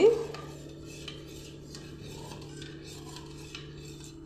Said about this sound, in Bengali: এখানে কিছুটা গরম জল নিয়েছি তার মধ্যে অল্প করে নুন দিয়ে দিচ্ছি দিয়ে একটু মিশিয়ে নিচ্ছি